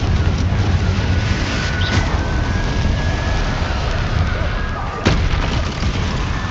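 The Confringo fire spell from Hogwarts Legacy, a loud, dense roaring blast that fills the whole stretch with rumbling broadband noise, with a sharper burst near the end and no voices.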